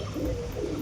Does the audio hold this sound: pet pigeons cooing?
yes